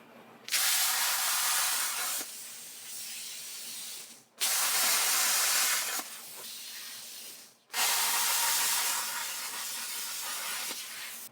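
Three long bursts of loud, harsh hissing and roaring from a plasma cutter cutting metal, each lasting several seconds with brief gaps between them. The sound is close and has no talking.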